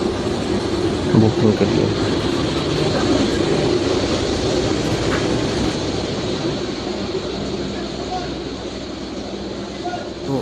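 Interior of a moving double-decker train, with a continuous rumbling, rattling ride noise at moderate level throughout while someone speaks over it.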